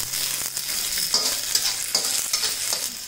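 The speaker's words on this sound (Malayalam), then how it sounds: "ഫ്ലെയിം കൂട്ടി വെച്ചിട്ടാണ് ഞാനിത് വഴറ്റിയെടുക്കുന്നത്." Onion and curry leaves are sautéed in a pan over a high flame, with a constant close sizzle and quick spatula stirring scrapes that come in uneven bursts, no voice.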